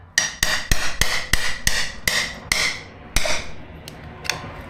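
A screwdriver is hammered through to punch a hole while fixing a Barnett clutch on a Sportster, making about nine sharp metallic strikes in an uneven rhythm, close and loud, followed by a couple of lighter taps.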